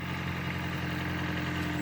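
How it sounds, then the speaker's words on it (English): A 2006 Toyota Prius with freshly changed spark plugs idles steadily, a low even engine hum with a faint tonal whine, constant and close with no talk. "You hear that? Granny's car's running."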